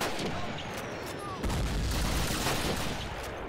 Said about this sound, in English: the explosions that happen around here aren't really artillery shells, but instead two hand grenades that just happen to explode